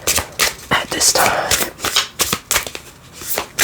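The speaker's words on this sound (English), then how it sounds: "I hope the card shuffling isn't too loud." A deck of tarot cards is shuffled close to the microphone in repeated crisp riffling bursts, with soft speech between them.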